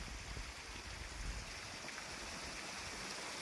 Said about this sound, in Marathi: शेतात ऊसाला पाणी चालू सुरू केलं आता